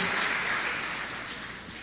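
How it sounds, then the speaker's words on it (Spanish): A church congregation applauds during a sermon, producing a continuous, even wash of clapping from many people that stays fairly loud throughout and tapers a little at the end. "Yo le daría un aplauso al Señor por eso"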